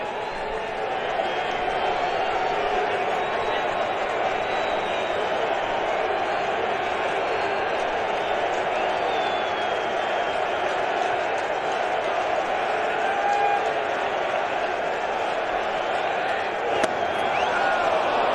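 Large baseball crowd of over 40,000 at Citi Field during a 2015 NLCS playoff game, a steady roaring murmur of the stands with scattered shouts, continuous and fairly loud throughout, with a commentator's voice faintly mixed in.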